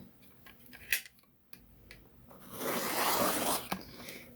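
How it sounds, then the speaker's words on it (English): Scissors cut through crawfish-pattern material with a few sharp snips, then a longer, louder rasping cut lasting about a second; close and clear, with no talking over it. "So let me cut this for you, okay?"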